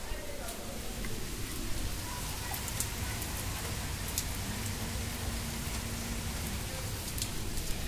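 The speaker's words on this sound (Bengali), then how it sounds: "বাইরে হেভি বৃষ্টি হচ্ছে দেখো" Heavy rain falls outside in a steady, dense hiss of drops on surfaces, continuous and fairly close, with faint background sounds mixed in.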